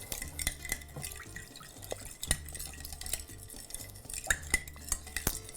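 A spoon clinks and scrapes through an orange marinade for Guatemalan campero-style chicken in a bowl, with quiet, irregular stirring taps and liquid sounds heard up close.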